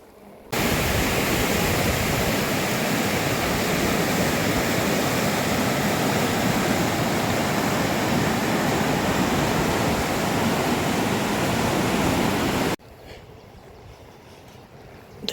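The Elwha River in Washington rushes past as a steady, loud roar of flowing water, a dense continuous wash that holds for about twelve seconds before cutting off to quieter ambience.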